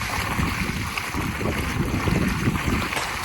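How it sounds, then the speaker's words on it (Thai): A solar-powered 750W two-inch water pump runs steadily with a slight stutter, giving a constant close rushing, churning noise of motor and gushing water that holds evenly with no pauses. "สะดุดนิดนึง เดี๋ยวเราจะปรับรอบเครื่องลงช่วยนะครับ"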